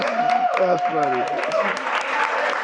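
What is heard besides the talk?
audience applause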